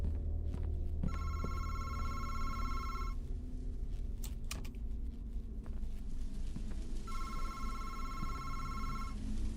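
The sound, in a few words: phone ringing in video game MADiSON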